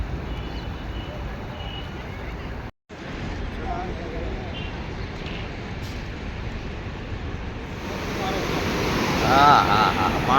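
The Ganges flows swiftly at Haridwar, a steady broadband roar of rushing water with wind buffeting the microphone, briefly cut by a short gap and swelling louder toward the end, with voices faint beneath it.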